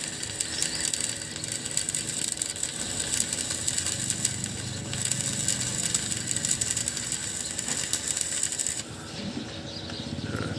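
A BONCHI welding machine runs an arc with a KOBELCO 3.0 mm rod, producing a continuous dense crackle and buzz close by that stops abruptly near the end.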